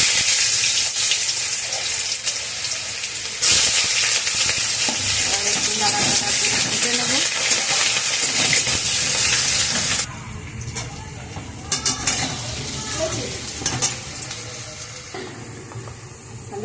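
Small cut potatoes sizzling in a frying pan with steady hissing, stirred with scraping strokes. The frying is loud at first and drops to a quieter crackle partway through, broken by scattered clinks.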